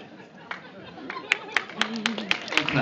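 Scattered claps from an audience at a film Q&A panel, a handful of sharp separate hand claps building in the second half over a murmuring room with talk.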